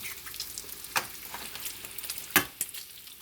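Eggs frying in a pan give a steady, faint sizzle and crackle with occasional sharper pops, heard up close with no talking.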